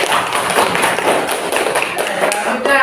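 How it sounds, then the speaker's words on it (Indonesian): Classroom applause for group 1 fills the room, a dense, steady clatter of many hands clapping close by for a few seconds. "Tepuk tangan untuk kelompok 1."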